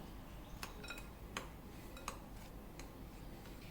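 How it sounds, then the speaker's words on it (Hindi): A spoon stirs crushed biscuit powder with cream and cashews in a bowl, giving a few faint, sparse clinks against the quiet background. "अब मैं इसे चम्मच से अच्छे से मिलाऊंगी"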